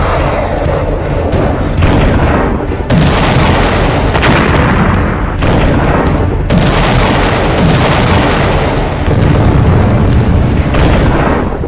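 Russian missile strike on Odesa, a very loud, sustained roar of booming blasts that rumble on for several seconds with abrupt shifts in intensity, no speech.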